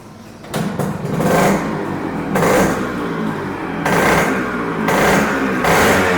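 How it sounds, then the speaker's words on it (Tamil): A Yamaha RX100 motorcycle engine is started and revved, rising in repeated swells of loud two-stroke engine noise with brief dips between, close by and with no talk. "நான் வெஹிக்கிள் ஸ்டார்ட் பண்ணி காமிக்கிறேன்."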